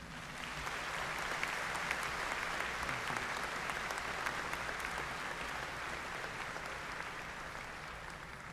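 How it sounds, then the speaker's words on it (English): A large commencement crowd claps in a broad, sustained round of applause, steady and even from start to finish, heard from a distance in a big hall, no voices on top. "Another round of applause."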